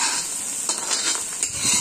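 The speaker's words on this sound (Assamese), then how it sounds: "এতিয়া আকৌ হেতাখনে লৰাই আছোঁ ভাল ধৰণে" Onion and ginger paste stirred with a spatula in a large kadai for an Assamese-style broiler chicken curry, a continuous close sizzle broken by several soft scraping strokes.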